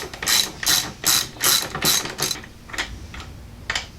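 A ratchet wrench clicks in quick bursts while loosening the brake caliper bolts on a sports bike with Nissin brakes, several loud rhythmic runs of ratcheting followed by fainter, sparser clicks.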